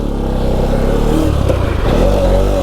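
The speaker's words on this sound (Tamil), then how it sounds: "வண்டி எப்படி அணத்துது பாரு" Motorcycle engine revving hard and close during wheelie practice, a loud sustained growl with rising and falling pitch and some mechanical clatter, no voices.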